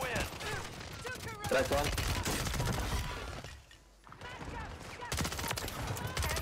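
Rapid bursts of gunfire ring out in a battle royale shooter game, loud and repeated with one brief lull, while a player's voice talks briefly over the shots.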